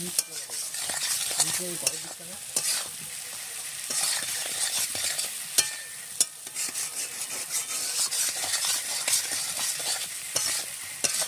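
Potatoes are stirred into a spice masala frying in oil for a rohu fish curry, with continuous sizzling and repeated scraping and clattering strokes of a spoon against the pan.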